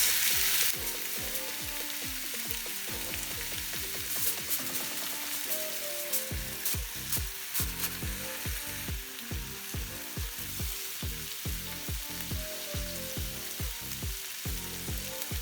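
Chicken satay skewers cooking on a hot surface, giving a steady hiss of sizzling with a dense run of soft rhythmic clicks and ticks throughout, close and continuous with no voices.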